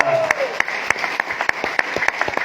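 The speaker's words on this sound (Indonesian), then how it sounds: "terutama tepuk tangan ulang tahun perkawinan Pak Tri dan Bunda" Crisp, evenly spaced clapping from a gathering at a family retreat in Tawangmangu celebrates Pak Tri and Bunda's wedding anniversary, keeping a clear regular beat after a brief voice at the start.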